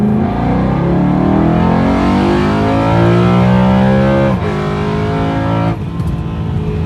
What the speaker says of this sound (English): As you can see, the induction noise is a lot louder than before